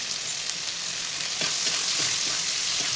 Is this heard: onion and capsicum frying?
yes